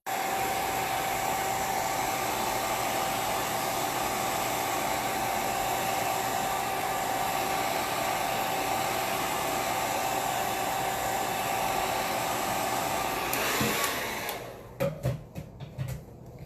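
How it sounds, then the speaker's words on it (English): A hair dryer blows continuously with a steady whooshing roar and faint whine, close up, then cuts off near the end, followed by a few clunks. "I'm going to blow dry it with the blow dryer."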